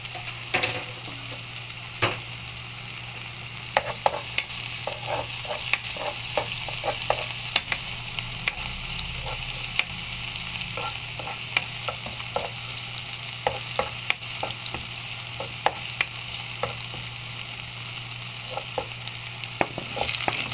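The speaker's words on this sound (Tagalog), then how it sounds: "Ayan po, nilagay na yung bawang" Garlic fries in a pan for kangkong with tokwa in oyster sauce, giving a steady soft sizzle punctuated by frequent sharp spatula clicks and scrapes, with a constant low hum beneath and no talking.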